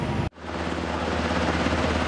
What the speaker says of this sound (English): Coast Guard helicopters, drones, and dive teams converged on a section of the James River